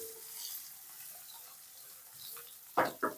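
Tandoori fish being stirred in a pan on a gas stove, soft steady sizzling throughout with a couple of sharper scraping stirs near the end.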